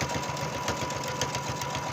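A sewing machine runs continuously while stitching down the pocket on a robe, with a steady rapid needle rhythm and motor hum, close and alone.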